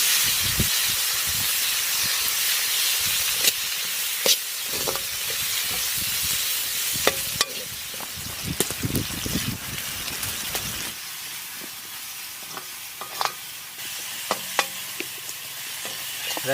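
Tomato and goat liver masala sizzles and hisses in a pan while it is stirred, with scraping and clattering strokes scattered over the steady frying noise.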